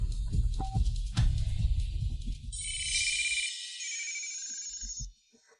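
A telephone rings on an outgoing call, its electronic warble repeating in steady bursts after some low thumping and rustle, then cutting off abruptly.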